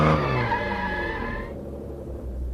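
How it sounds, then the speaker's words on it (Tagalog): A car brakes hard to avoid hitting a rider, its tires screeching loudly for about a second and a half before fading into a low road rumble. "Dinig na dinig ang malakas na ugong ng gulong ng sasakyan"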